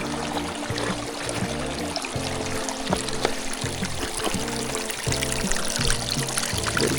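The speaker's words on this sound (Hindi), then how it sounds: "ये पानी भी बह रहा है।" Meltwater runs out from under a snow cover beside a mountain road near Naran, Pakistan, making a steady, close rushing trickle. A low rumble sits beneath it throughout.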